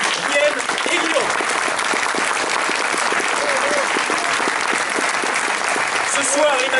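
A theatre audience at a stage show claps loudly and continuously throughout, dense and close, with a few voices calling out over the clapping.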